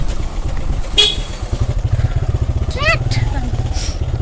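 Motorcycle engines rumble nearby on a busy Kathmandu street during Dashain while horns honk a couple of times, with passing traffic blending together.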